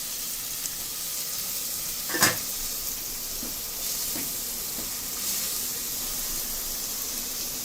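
Onions sauté in hot oil with a steady, soft sizzle and hiss, close by, broken by a single sharp utensil clink and a few faint stirring scrapes, with no voices.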